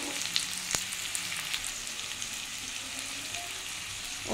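Papaya and cucumber sizzle steadily in hot oil as spices go in for a fish curry, a continuous close crackling hiss with a few sharp pops and no voices.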